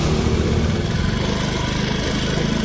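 Honda motorcycle engine under throttle during a fuel-pressure check, a loud, close, steady mechanical drone with a rapid pulsing beat throughout.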